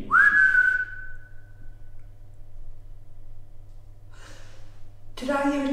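A single loud person's whistle rises and then holds a steady note inside a supposedly haunted old hall. A quiet hum stays under it, and a voice comes in briefly near the end.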